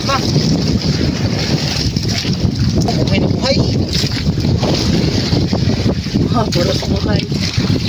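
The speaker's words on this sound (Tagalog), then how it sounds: "Mahangin na dong. Lakas-lakas na." Strong wind buffeting a fishing boat at sea, a loud, constant roar of gusts and water noise across the whole stretch, with people talking and calling out over it.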